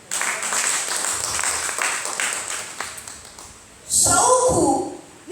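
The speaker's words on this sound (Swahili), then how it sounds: "pigie Bwana makofi" A church congregation claps for the Lord during a service, a steady wash of clapping that swells into a louder, fuller burst near the end, with voices mixed in.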